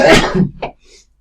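A single loud, close sneeze bursts out sharply, followed by a brief trailing breathy sound.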